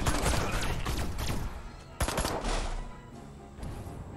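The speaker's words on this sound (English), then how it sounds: "Nice shooting, Crypto" Rapid bursts of gunfire from the Destroy All Humans! video game crackle densely for several seconds, with repeated shots overlapping in a loud, continuous barrage that briefly dips before resuming.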